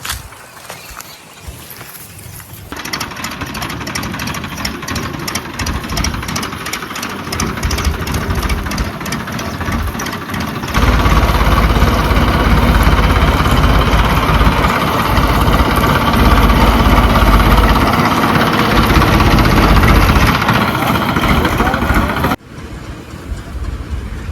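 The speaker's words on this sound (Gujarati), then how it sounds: "હાલો હવે મસ્ત ટ્રેક્ટર લઈને આવ્યો" A tractor engine runs steadily at idle in a Gujarati village, a loud continuous mechanical drone that swells louder partway through and drops off near the end, with no talking.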